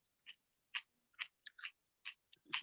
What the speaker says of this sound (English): So this is some sour grass, and it's really good where you can just I like to just chew it.